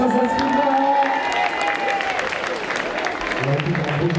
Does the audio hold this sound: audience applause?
yes